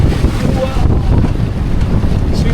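Strong wind buffets a sailing yacht motoring under engine on a northern European sea, a loud continuous roar of gusts and water rushing past the hull, with a voice speaking briefly over it.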